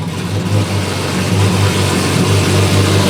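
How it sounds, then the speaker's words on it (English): A Lamborghini Aventador engine revs loudly nearby, a deep sustained roar with strong low rumble that holds steady throughout, with no talking. "are you ready for the world's loudest Aventador?"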